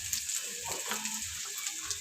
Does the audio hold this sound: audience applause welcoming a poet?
no